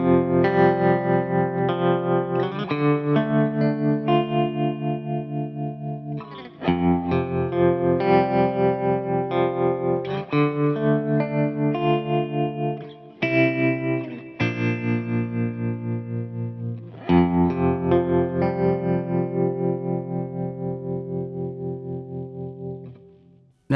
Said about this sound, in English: let's add in some modulation. And what I'd like to do is to have a tremolo. So let's load in Studio Tremolo.